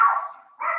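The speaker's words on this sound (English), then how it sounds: "the dog's barking" A dog barking twice in quick succession, a short sharp bark then a yip, fairly near and clear with no talking over it.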